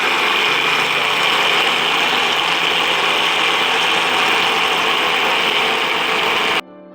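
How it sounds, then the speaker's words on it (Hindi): A kitchen blender purees banana ice cream with pieces of Dairy Milk chocolate, giving a loud, steady motor whir with rattling that runs continuously for several seconds and then cuts off abruptly near the end. "हम इसको ब्लेंड करेंगे।"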